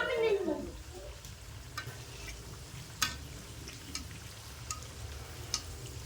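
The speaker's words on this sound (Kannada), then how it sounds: "ಈ ರೀತಿ ಚಂದ ಸ್ವಲ್ಪ ಕೆಂಪು ಕಲರ್ ಬರೋವಂಗೆ ಫ್ರೈ" Food frying in a pan until lightly reddened, a steady soft sizzle running throughout with a few sharp clinks of stirring utensils against the pan, heard close and fairly quiet with no talking.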